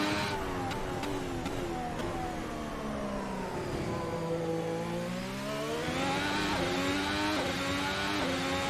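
A modern Formula 1 car engine from a racing video game screams up through the revs at high pitch. It drops briefly on a gear change and then climbs again, staying loud and steady with no voices.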